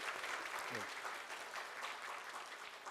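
A crowd applauds steadily during a Sunday church service, a dense wash of clapping that holds at an even level for the whole stretch, with a voice briefly audible underneath.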